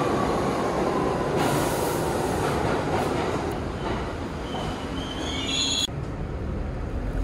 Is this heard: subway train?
yes